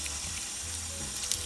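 Steady running water from a shower spray pouring over a hedgehog, a continuous close hiss with slight splashy variation and no voices.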